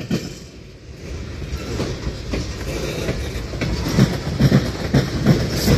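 A small locomotive pulls a long train of tanker cars uphill, with a steady rumble, rhythmic clickety-clack of wheels and faint squeals building in strength, heard close and without talk.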